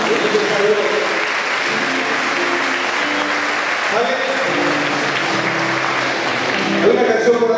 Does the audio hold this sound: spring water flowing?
no